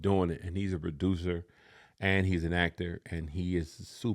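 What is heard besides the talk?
No everyday noise stands out behind the speech.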